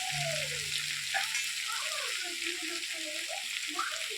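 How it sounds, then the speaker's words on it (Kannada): Curry leaves, mustard seeds, chana dal, onion and green chillies fry gently in a pan on a low flame, a soft, steady sizzle with faint background voices. "ಕರಿಬೇವಿನ ಸೊಪ್ಪು, ಸಾಸಿವೆ, ಕಡಲೆಬೇಳೆ, ಈರುಳ್ಳಿ, ಮೆಣಸಿನ್ಕಾಯಿ ಹಾಕ್ಬಿಟ್ಟು ಸಣ್ಣ ಉರಿ ಬೇಯಿಸ್ಬೇಕು"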